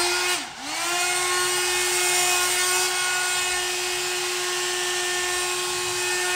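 A hot air brush blowing and warming a thin section of hair: a loud, close, steady motor whine with rushing airflow, briefly dipping in pitch near the start, then holding constant.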